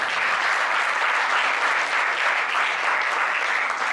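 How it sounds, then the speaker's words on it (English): Sustained round of applause from an audience honoring panelists at a panel discussion, a thick, even wash of clapping holding at steady loudness from start to finish. "one big round of applause for all of them once again"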